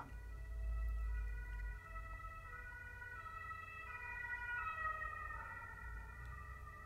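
A faint, steady two-tone siren-like whine comes from a glow rectifier tube in operation, holding level for several seconds over a low hum with no talking.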